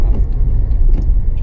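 Car engine rumbling steadily through a gear change into third during a driving lesson, a low continuous drone close by with no talk.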